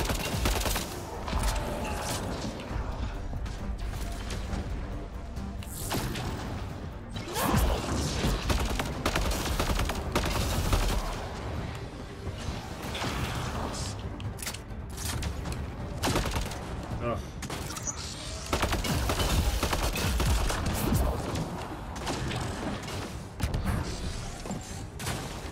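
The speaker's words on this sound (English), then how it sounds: "I'll try shooting her this time." Gunfire in the sci-fi shooter Mass Effect Andromeda, bursts of rapid weapon fire and impacts mixed with crashing battle noise across a long stretch, with someone talking throughout.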